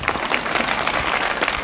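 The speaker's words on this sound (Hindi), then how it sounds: "ताली बजाओ।" An audience claps together in a dense, continuous burst of applause, loud and close, sustained evenly throughout with no voices over it.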